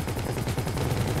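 Rapid automatic gunfire in the GTA 5 video game, a continuous rattling burst of closely spaced shots, loud and steady throughout with no talking.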